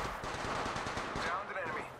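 Rapid automatic gunfire in the Apex Legends Mobile ranked mode crackles in dense bursts throughout a short firefight, with game voice callouts speaking over the shots.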